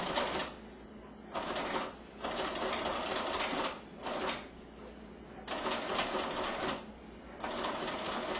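A sewing machine zigzag-stitching appliqué fabric runs in four loud bursts of rapid mechanical whirring, each separated by short pauses, close by and without talking.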